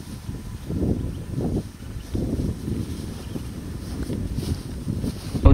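Cold wind sweeps over a hilltop in the middle of a jungle, heard as low, gusty rumbling that swells and fades in uneven waves against the microphone, fairly faint and with no voices.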